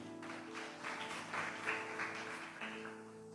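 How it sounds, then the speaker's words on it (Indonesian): A church congregation claps together during a worship service, a faint, dense patter of applause swelling and fading over a few seconds beneath a sustained musical hum. "Yang percaya beri tepuk tangan buat Tuhan."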